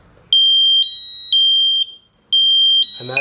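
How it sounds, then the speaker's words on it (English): A firefighter's SCBA pack motion alarm sounds loud and close: piercing high beeps in steady bursts with a short gap, then a voice speaks at the end. "if the pack hasn't moved, it'll start to alarm, and that's your new sound for that"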